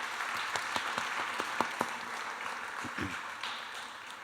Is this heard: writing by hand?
no